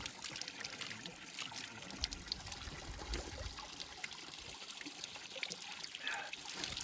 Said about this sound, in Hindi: तो दोस्तों यहाँ पे है नेचुरल वाटर सोर्स